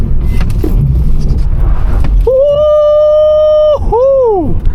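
A cheap prop car made up to look like a Tesla drifts with a loud, close rumble, then tyres let out a sustained high squeal that breaks off and returns as a second, bending screech.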